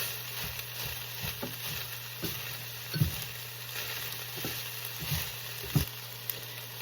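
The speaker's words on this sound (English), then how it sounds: "let it simmer. Low medium heat, not too hot." Vegetable soup bubbles in a pot on low-medium heat, a soft steady sizzle with faint irregular pops and light knocks.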